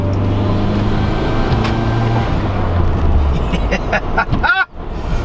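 A tuned Mitsubishi Evo engine drones loudly nearby, then revs up sharply near the end with a rising, rapping exhaust note.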